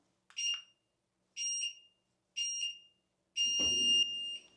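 Treadmill countdown before a workout starts: three short, even electronic beeps about a second apart, then a longer, sustained beep joined by a low motor whir as the belt begins to move, clear and close.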